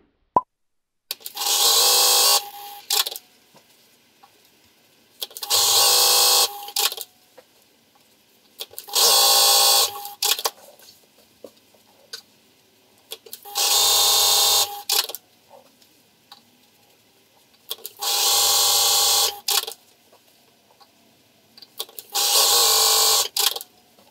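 A sewing machine stitching quilt squares into rows, running in six loud, even bursts of whirring of about two seconds each, with quiet pauses between them.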